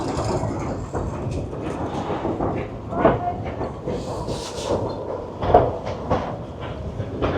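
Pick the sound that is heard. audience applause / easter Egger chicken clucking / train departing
train departing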